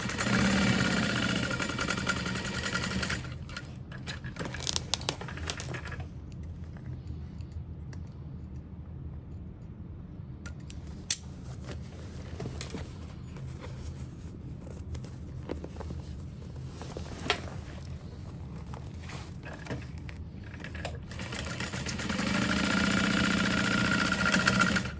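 Sewing machine stitching the side seam of a backpack, a steady mechanical whir with faint clicks that runs close and continuous, louder at the start and end, with no voices.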